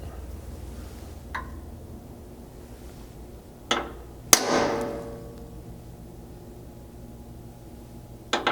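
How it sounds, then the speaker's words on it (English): A hammer strikes a steel center punch to mark hole centers on a Lexus LX 570 for a Blitz slider install: a few sharp, isolated metallic taps spaced seconds apart against quiet room noise. "using a center punch and a hammer to mark the center of these holes"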